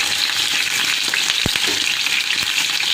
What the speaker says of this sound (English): in a hot pan, we are going to fry it. Just flash fry it